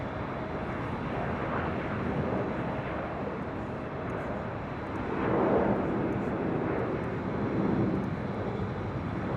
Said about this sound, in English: Delta Airlines Flight 1390 heading to Denver on that A319